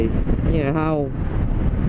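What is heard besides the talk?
wind blowing on the microphone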